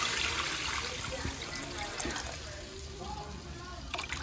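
Water is poured into a cooking pot holding milkfish simmered with salted black beans, producing a steady trickling splash that gradually softens, with faint voice sounds nearby.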